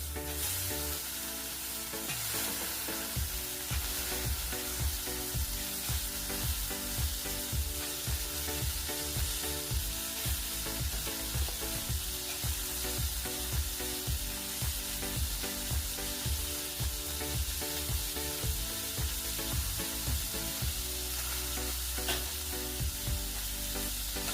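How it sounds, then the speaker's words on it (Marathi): Pigeon pea seeds sautéing in a pan give a continuous hiss and sizzle, broken by a regular rhythm of stirring scrapes and soft clatters from start to finish, and no speech. "हे सगळं चांगलं परतून घ्यायचं आहे।"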